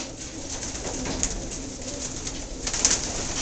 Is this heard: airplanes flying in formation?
no